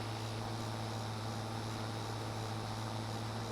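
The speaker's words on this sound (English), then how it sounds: "Listen to that engine roar." An old farm machine's engine roars in a steady, continuous drone with a low hum, unbroken and moderately distant throughout.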